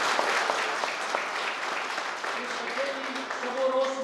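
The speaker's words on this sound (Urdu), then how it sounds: "ساتھین کے لیے بھرپور تالیاں کریں" An audience claps for a speaker at an event, giving a dense, steady round of applause, with voices heard under the clapping.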